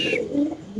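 Large pigeons at a pigeon farm giving a soft, low continuous cooing close by through a short stretch, with a faint higher bird note at the start.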